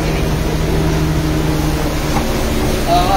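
A Honda Fit on a break-in drive idles with a steady, close, low engine drone and a smooth hum.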